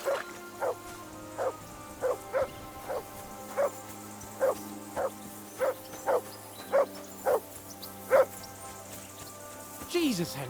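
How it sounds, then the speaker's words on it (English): A dog in Kingdom Come: Deliverance II barks over and over, about a dozen evenly spaced sharp barks, moderately close and clear, over a quiet background. "Jesus, Henry, that barking's driving me nuts. Can you get your dog to shut its beak"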